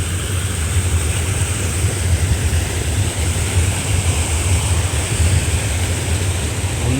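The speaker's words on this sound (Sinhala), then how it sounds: "මෙන්න මෙතනින් වතුර ඇවිල්ලා ඔන්න ඇල්ල පහළට ගල් පරෙන් පහළට කඩා හැලෙනවා" A waterfall tumbling down over rocks on a mountain river, a steady, loud, broad rush of water that holds unchanged throughout.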